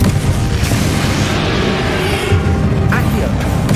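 Confringo fire spell blast in the game Hogwarts Legacy during a battle, a loud, dense booming roar that stays heavy throughout, with crackling bursts and a voice mixed in.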